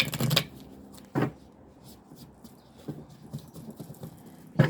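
A deck of tarot cards being shuffled nearby: a few sharp riffling bursts separated by softer rustling and handling of the cards.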